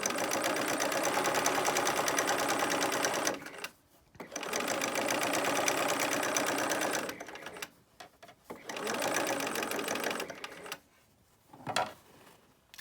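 A sewing machine stitches fabric in three long steady runs of rapid mechanical whirring, each stopping abruptly, with a short burst near the end; close and fairly loud, no talking.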